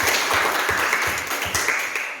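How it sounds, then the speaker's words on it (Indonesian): Schoolchildren in a classroom clap for a group after an answer, a close, steady burst of many small hands clapping that thins slightly toward the end, with no talk. "Tepuk tangan dulu."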